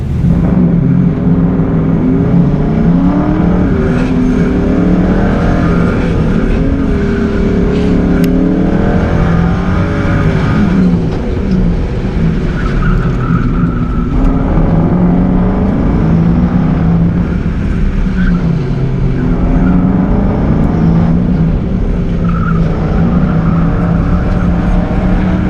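A DIY race car with a shifter and homemade double wishbone suspension drives hard around a tight event course, its engine droning loudly and continuously with repeated revving and shifts in pitch, captured close from on board.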